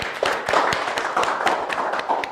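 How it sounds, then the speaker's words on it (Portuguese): A small group clapping for Roger during a Portuguese public-speaking session, a short spell of scattered, uneven handclaps in a room, moderately loud and close. "Uma salva de palmas pro Roger."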